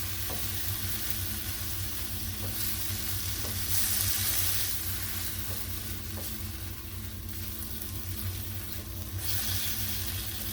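Food mixed around in a very hot pan gives a continuous loud sizzle and hiss with faint scraping of the utensil, steady throughout with no talking.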